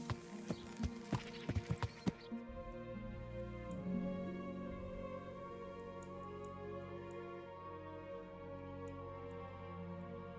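A horse in Kingdom Come: Deliverance clip-clops with several quick, crisp hoof strikes, then a whinny rises and fades over a soft, sustained musical background.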